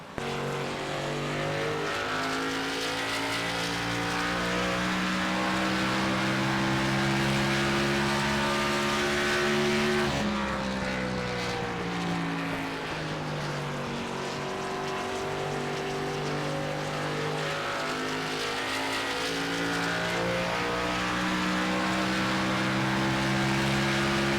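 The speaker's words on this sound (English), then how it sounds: "Beautiful sound. A little race car again." A small GEARS Sprocket Series race car runs laps at WWT Raceway, its engine a steady high-revving drone that shifts pitch around the ten-second mark, then climbs again, loud and continuous with no talk over it.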